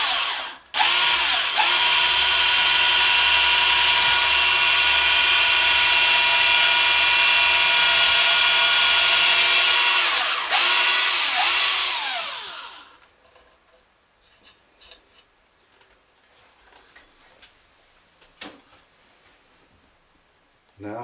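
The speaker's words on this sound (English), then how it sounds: "I've put a slight stop on the drill just using a bit of masking tape" A power drill with a masking-tape depth stop whines loudly and steadily for about eleven seconds into a Stratocaster guitar body, with a brief pause, then stops, leaving quiet handling sounds and small knocks.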